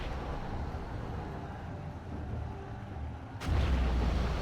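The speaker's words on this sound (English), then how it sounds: "Scud launcher misses its target" A Scud launcher missile strike in a GLA real-time strategy match on the Drallim Desert map: a low continuous rumble, then a sudden loud blast near the end.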